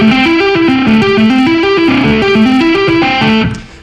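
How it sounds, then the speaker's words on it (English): Electric guitar with light distortion runs a fast string-skipping arpeggio lick over a chord, bright repeating notes in an even rhythm, played up close without talk. "This next lick is an example of applying string skipping to arpeggios over a chord"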